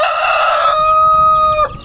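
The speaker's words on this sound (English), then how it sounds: "the sound of one of my hens squawking like she was auditioning for the lead role in a horror movie." A backyard hen gives a loud, drawn-out, strained squawk at 5 a.m., held steady for well over a second before breaking off abruptly, close to the microphone with no other sounds.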